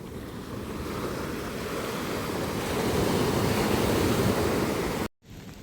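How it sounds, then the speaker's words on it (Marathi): Sea waves roll onto the shore, a loud, continuous rushing surf mixed with wind buffeting the microphone. It builds slightly toward the end and then cuts off abruptly, with no talking. "तर आता आम्ही आलो आहे इथे समुद्राच्या किनारी"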